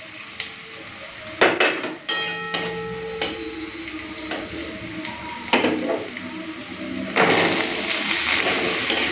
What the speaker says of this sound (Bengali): এখন কেটে রাখা সবজিগুলো দিয়ে দেবো।